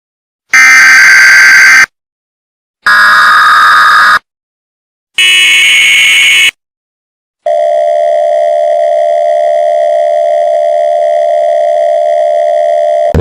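An emergency alert broadcast tone in an animated movie: three loud harsh buzzing bursts separated by silence, then a long steady sustained tone, with no voices.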